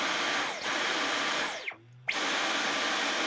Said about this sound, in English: And now your vacuum should be working normally